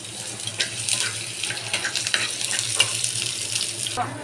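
Onions and garlic frying in a pan, heard as a continuous close crackling sizzle with irregular pops and bursts of hiss.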